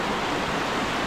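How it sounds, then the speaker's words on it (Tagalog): Strong rushing water flow at Bolaw cold spring, a dense steady broadband hiss and roar, continuous and close, with no voices. "malakas yung flow ng tubig"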